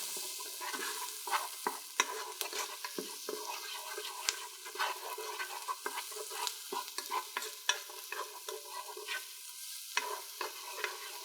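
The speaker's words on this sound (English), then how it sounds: "We're going to let this saute down for a couple minutes" Vegetables sauté in a pan for an American chop suey, giving a soft, continuous sizzle broken by frequent scraping and clinking stirs from a utensil, close and fairly quiet, with no talking.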